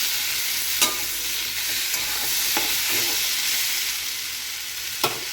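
Onions sizzle steadily in a hot pan for a potato, pointed gourd and tomato curry, a dense, loud frying hiss with a few sharp clinks of a spoon stirring.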